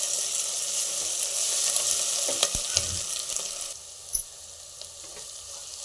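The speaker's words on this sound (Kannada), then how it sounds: "ಇದನ್ನು ಫ್ರೈ ಮಾಡಿ, ಚೆನ್ನಾಗಿ ಹಸಿ ವಾಸನೆ ಹೋಗೋವರೆಗೂ ಫ್ರೈ ಮಾಡ್ಕೊಳ್ಳಿ." Onion with ginger-garlic paste fries in a pan for kushka rice, a steady close sizzle with occasional stirring scrapes and a couple of sharp clinks, no voices.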